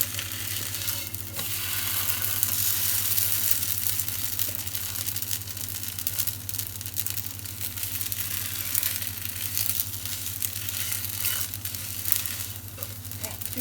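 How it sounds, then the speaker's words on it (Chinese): A chive flour cake fries slowly on low heat in a pan, giving a soft, steady sizzle with faint crackles over a low background hum, continuing gently throughout. "就这样子煎它，慢火煎"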